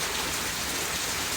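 Steady rain falls in a dense, even hiss, close and fairly loud, with no voices or other sounds over it.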